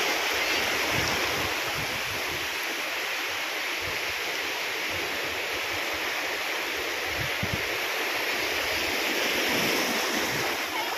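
Continuous roar of ocean surf with waves washing in steadily, mixed with wind noise buffeting the microphone; no voices.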